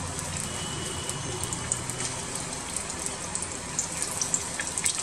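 Raw onion, garlic and green chili hit hot oil in a heated kadai, producing a loud, steady, close sizzling hiss with scattered crackles and no speech.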